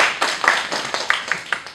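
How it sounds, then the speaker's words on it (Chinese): Audience applause at an evening wildlife conservation lecture in Taiwan, welcoming a speaker from a black bear conservation group: a steady wash of many hands clapping with sharper individual claps, moderately loud and close, with no talk over it. "那请大家掌声鼓励"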